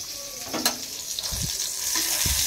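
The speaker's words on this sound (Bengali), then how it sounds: "এখানে পটল ভাজা হচ্ছে" Slices of pointed gourd (potol) fry in hot oil with a soft, steady sizzle, joined by a few light clinks and stirring knocks from the pan.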